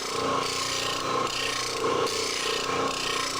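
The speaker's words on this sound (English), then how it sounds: "when this side of the blade gets in the middle of the stone, I'll engage" Plane blade being sharpened on a sharpening stone, a steady gritty rasping scrape repeating in even back-and-forth strokes, close and alone with no talk.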